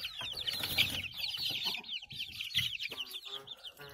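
A group of chickens clucking and squawking continuously nearby, with overlapping calls and faint rustling in the background.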